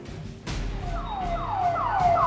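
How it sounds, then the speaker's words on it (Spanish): An ambulance siren wails outside a hospital, its rising and falling tone growing louder as the vehicle approaches and passes, over steady street and traffic rumble. "Perdón que justo pasa una ambulancia."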